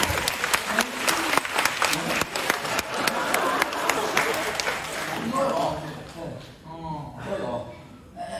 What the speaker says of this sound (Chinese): 但是请别忘了鼓掌，别忘了鼓掌